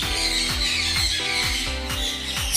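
Birds squawk repeatedly in a bird park at Yercaud, loud harsh calls recurring about every half second over a busy, continuous background.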